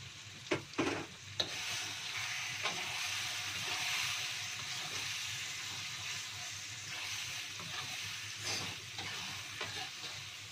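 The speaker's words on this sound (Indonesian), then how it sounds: "Diaduk ya guys ya, biar merata, biar nggak gosong." Sambal pete, seasoned with sugar, salt and Royco, sizzles steadily in a pan as it is stirred. Scraping knocks land near the start and again later. No one speaks.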